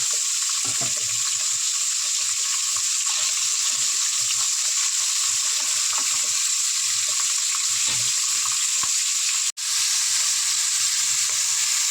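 Chicken for chicken pantaras fries in oil in a pan with spices, a steady, close, bright sizzle that runs the whole time with faint stirring beneath and one brief dropout near the end.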